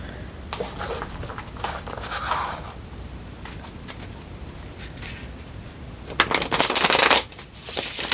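Tarot cards are shuffled in a few separate bursts of quick papery riffling, with a longer and louder flurry near the end over a low background hum.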